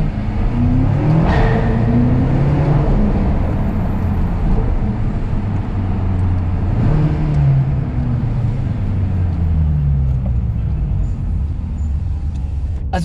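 A BMW M6 Competition engine revs loudly a few times, its pitch climbing sharply before sinking back to a deep, steady rumble.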